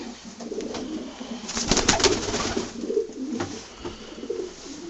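Male pigeons in a loft give steady low cooing, several overlapping throaty calls that peak midway and continue at moderate volume throughout.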